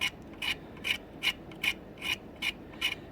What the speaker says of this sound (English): take your X-Acto knife, kind of scrape it off a little bit